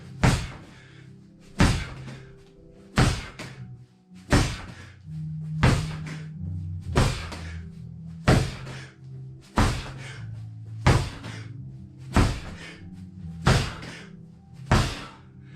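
In a home dryland strength workout, a ball is slammed down on the floor about every 1.4 seconds, eleven sharp, heavy thuds in a steady rhythm, close by, with quieter movement in between.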